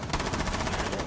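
Rapid automatic gunfire from a Rainbow Six Siege match, a dense, loud burst of evenly spaced shots running the whole moment with faint talk underneath.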